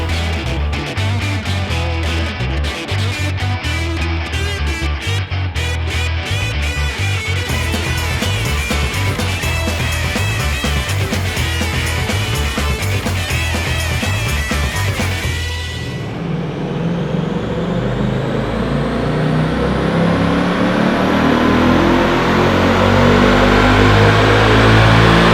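A Ford Mustang GT fitted with a Steeda cold air intake and tune roars through a loud, sustained dyno pull, its engine note climbing steadily in pitch, briefly dipping at a shift around the middle, then rising again to the end.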